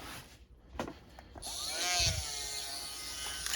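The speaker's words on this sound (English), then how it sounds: "I'm gonna grab the Dremel" A Dremel rotary tool cleaning the wheels of an old Marx model train, starting with a couple of small clicks, then spinning up into a close, rising high whine that settles into a steady whir.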